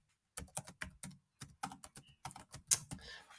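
Computer keyboard typing while composing a Gmail message: a quick run of close, crisp key clicks in short irregular bursts with brief pauses, with no talking.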